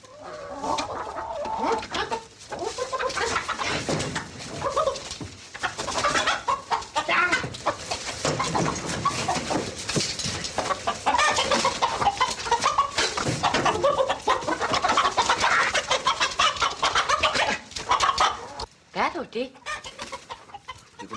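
Hens clucking and squawking in a henhouse, a dense, agitated chorus that runs continuously and loudly throughout, with occasional voices mixed in beneath the flock.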